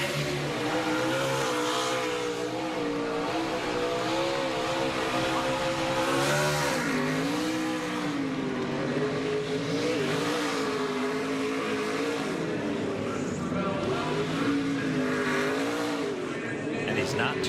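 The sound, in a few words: race truck doing a burnout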